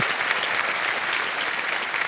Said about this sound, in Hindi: एक बार जोरदार तालियां बज जाएं हर्षा जी को